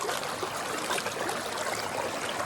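Continuous broadband rush of river water flowing, steady and fairly loud, nearby with no voices.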